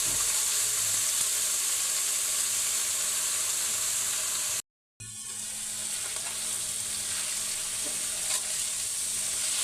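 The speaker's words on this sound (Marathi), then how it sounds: "मी त्याच्यामध्ये मेथी टाकून घेते. अशी चटचट उठते मस्त मेथी" Fenugreek leaves hit a pan of sautéed garlic and sizzle loudly and steadily nearby, with a brief silent gap partway through before the frying hiss resumes.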